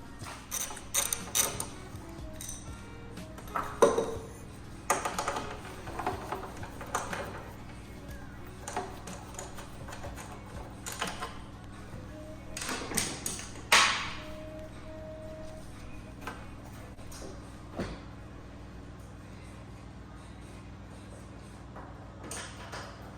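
A ratchet wrench works on bolts holding the front end of a Mk4 car during engine bay shaving, giving bursts of quick clicking with clanks and handling noise at close range and quiet gaps in between.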